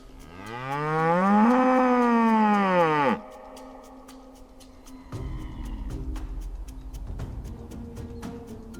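A Camargue black bull lows in a salt marsh, one long, loud, rising and falling moo lasting about three seconds. It is followed by quieter marsh ambience with wind and faint ticking sounds.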